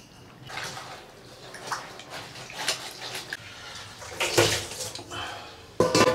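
Beef tripe is rinsed under clean running water, giving a steady close splashing and gushing with a few brief clatters, and the water swells near the end.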